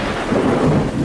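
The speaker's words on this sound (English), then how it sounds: "a storm hit Sturgis. The rain just totally devastated his whole night" Thunder rumbles heavily while rain pours down in a dense, loud wash of noise during a storm at Sturgis, one brief continuous stretch with no talking.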